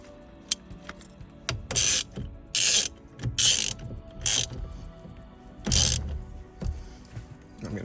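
A ratchet tightens an 18mm steering wheel nut on a Toyota Tundra, with close, loud bursts of rapid clicking in several short strokes separated by brief pauses and small handling clanks.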